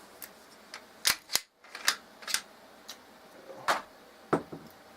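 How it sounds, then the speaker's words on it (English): Sharp metallic clicks and clacks of .22 rifle actions being cycled while clearing the guns, scattered single snaps and short double clacks, close by with quiet pauses between. "clear the weapons so everybody knows they're safe"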